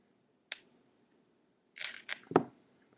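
An Allen key is pushed into the bolt channel of an Eclipse Ego paintball marker to drive out the rammer, producing a sharp metallic click, a short pause, then a quick cluster of scraping and clicking metal sounds, close and fairly quiet.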